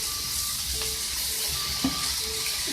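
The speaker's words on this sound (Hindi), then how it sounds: "अब इसको भी फ्राई करेंगे।" Green onions, bell pepper and peas sizzle steadily in a hot pan with oil, a continuous close frying crackle broken by a few soft clunks of stirring.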